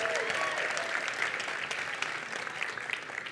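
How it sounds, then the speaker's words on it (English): Steady applause from a summit audience in Sacramento fills the room, dense and continuous clapping with no voices over it, holding at an even level throughout. "Sacramento, give yourself a round of applause for being here today."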